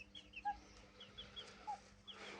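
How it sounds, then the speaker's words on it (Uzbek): A rooster and chickens give soft scattered clucks and short calls, faint and close in a quiet farmyard, with a few brief bursts and no talk. "Bu xo'rozimiz."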